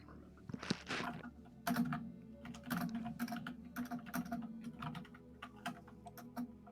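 Hard, aggressive typing on a computer keyboard, rapid clattering keystrokes in uneven bursts, close and loud against a quiet background hum.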